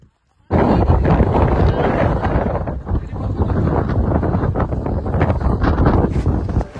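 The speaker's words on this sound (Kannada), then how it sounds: "ವ್ಯೂ ಪಾಯಿಂಟ್ ರೀಚ್ ಆದ್ವಿ ಅಂದಿದ ತಕ್ಷಣ ಗಾಳಿ ಮಳೆ ಪ್ರತಿಯೊಂದು ಸ್ಟಾರ್ಟ್ ಆಯಿತು" Strong wind and rain at a monsoon hilltop viewpoint, a loud continuous roar with heavy gusting buffets against the microphone that begins abruptly and continues unbroken throughout.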